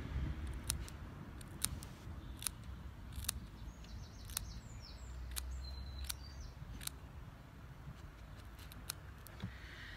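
Scissors snip a dog's hair during a haircut, a series of sharp, quick clicks spaced through the clip over faint background noise, with a few high bird chirps in the distance.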